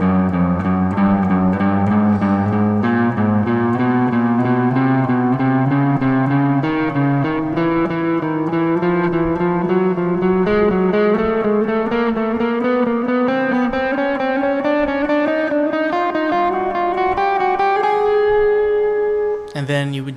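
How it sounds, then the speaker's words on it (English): An electric guitar with effects and some distortion climbs a chromatic scale, picking each note twice in steady pairs. It rises gradually in pitch for about twenty seconds, is loud and close, and has no talking. "chromatic scale, but now it would be in doubles."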